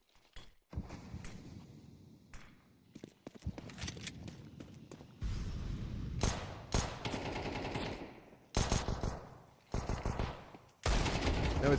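Rapid bursts of video game gunfire from a competitive CS-style esports match, with pistol shots and automatic fire crackling in clustered volleys separated by short gaps, loud and close throughout.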